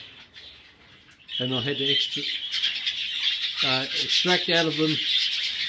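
Lacewing birds chatter and chirp in a steady high-pitched background wash while a person speaks close to the microphone over them.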